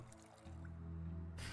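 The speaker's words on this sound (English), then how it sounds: "Fill water bottle." Water trickling into a bottle in the survival game Project Zomboid, a quiet brief fill with faint dripping and a soft rising liquid sound, alone with no talk.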